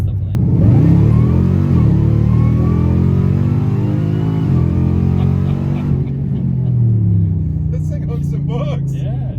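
A mini TRX truck on cold tires launches hard and accelerates, its engine roaring loud and close with a rising rev that dips and climbs again. Voices talk over the engine near the end.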